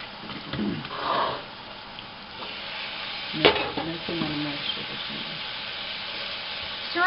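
Fresh vegetables sizzle in a pan during an allergen-friendly stir-fry, a steady close hiss of frying with scraping stirring strokes and a few clatters partway through.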